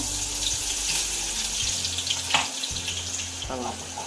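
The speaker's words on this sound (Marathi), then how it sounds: "तेल टाकलाय, तो आता तापलाय. आता आपण लसूण टाकूया." Garlic fries in hot oil with a steady, close crackling sizzle, joined by a couple of louder bursts of spitting and a stirring scrape near the end.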